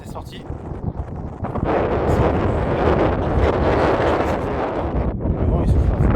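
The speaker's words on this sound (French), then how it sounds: "Le vent il souffle." Strong wind buffets the microphone outdoors, roaring steadily and loudly throughout with gusting surges; a voice is faintly mixed in.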